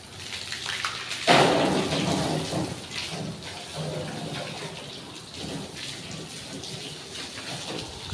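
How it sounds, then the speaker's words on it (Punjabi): Water splashes and gushes around a freshly washed car, a steady broadband spray with a loud burst near the start that then eases into continuous splashing with no voices. "ਹੁਣ ਨਾਲੇ ਦਾਲੇ ਵੀ ਪਾਣੀ ਮਾਰ ਦਾਂਗੇ"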